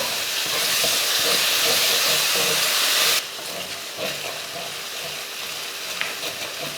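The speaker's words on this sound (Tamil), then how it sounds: "தயிர் போட்டு இது போல் வதக்கினதுக்கப்புறமா" Curd sautés with onion, garlic and spices in a pan for chicken varuval, a loud hissing sizzle that drops to a quieter crackle partway through, with occasional stirring scrapes and no talk.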